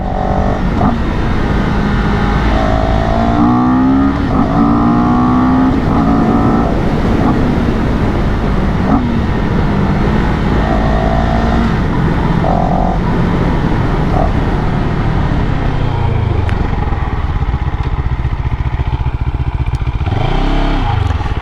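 A CFMOTO 700 CL-X motorcycle pulls hard at full throttle, its engine revving loud and close and climbing through gears with rising and falling pitch, then a mechanical clatter and rumble near the end.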